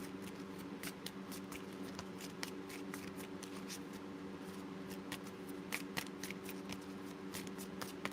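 Tarot cards being shuffled by hand, a quiet, steady patter of soft riffling flicks and taps with a low background hum.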